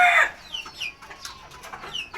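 Desi chickens on a balcony let out a loud squawk, then carry on with scattered soft clucks close by.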